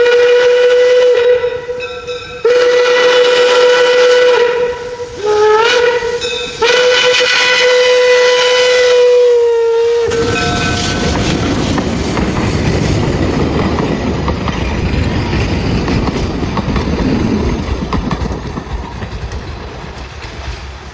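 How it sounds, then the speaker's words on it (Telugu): An 1800s vintage steam train sounds a loud, sustained whistle in several blasts over about ten seconds, then rolls on with a steady, close mechanical rumble and rattle of cars. "ఇదే మనం ఎక్కబోయే ట్రైన్."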